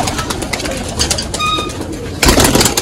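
Pigeons cooing amid a burst of activity as they are let out, with loud flutters of wings surging near the end and a brief high tonal squeak in the middle, all close and busy.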